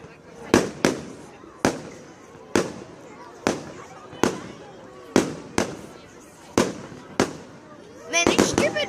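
Fireworks burst in a loud, sharp series of about a dozen bangs spaced roughly a second apart, ending in a rapid crackling cluster, with people chatting around them.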